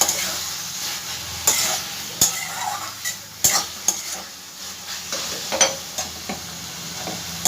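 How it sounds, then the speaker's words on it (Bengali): Mashed flat bean paste fries in a pan with a steady soft sizzle, punctuated by repeated sharp scrapes and clinks of a spatula stirring against the pan. "এবার এটাকে 2 মিনিট আমি ভেজে নেবো খুব ভালো করে।"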